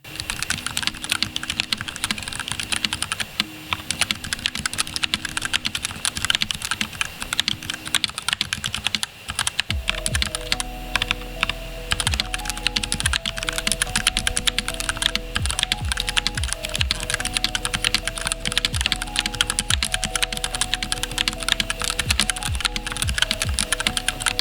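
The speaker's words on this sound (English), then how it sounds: "you can hear the fogginess of the keyboard" A cheap mechanical keyboard is typed on continuously with dense, rapid key clacks, heard under a music track whose deep bass enters partway through.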